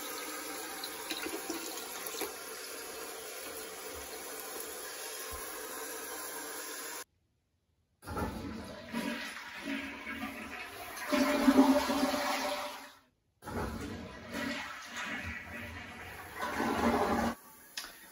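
A toilet with a hands-free remote motion-sensor flush and combined fill valve rushes loudly as it flushes, then hisses and trickles steadily while the tank refills, with brief silent breaks between stretches of running water.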